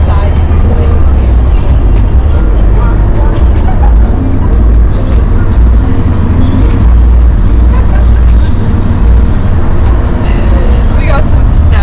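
Loud, steady low rumble of a moving bus on a Thai road, heard from a reclined seat in the back row, with road noise and small rattles throughout and people talking over it.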